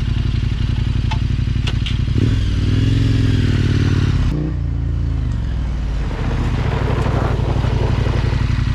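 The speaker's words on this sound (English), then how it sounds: "First brake session is with ABS off" A motorcycle on Mitas E07 tyres brakes at about 60 km/h on loose gravel with ABS off; a loud engine drone falls in pitch, and gravel crunches and scrapes under the wheels.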